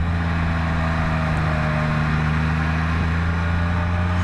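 Steady low engine drone of a motorcycle climbing a hill in first gear on Ohio's Triple Nickel road, a constant rumble with wind noise and no talk.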